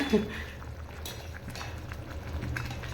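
Hot oil spatters and sizzles in a pan while oil brinjal curry (ennai kathirikai kuzhambu) cooks, with soft crackles and pops over a low background and a voice faintly present.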